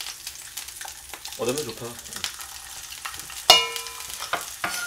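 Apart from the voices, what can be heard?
food being stirred and flipped in a frying pan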